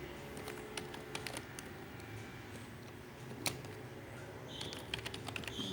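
Computer keyboard typing at a moderate pace, with a string of light, close key clicks over a steady room hum and no talking.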